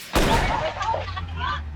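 A single loud gunshot cracks sharply, followed by a ringing echo and low rumble that fades slowly.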